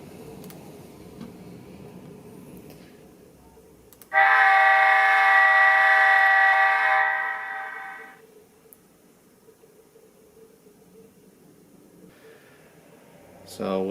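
A Scaletrains C39-8 model locomotive with onboard sound runs in reverse, its loud sustained horn blast lasting about four seconds before fading back to a low motor hum, with faint talk around it.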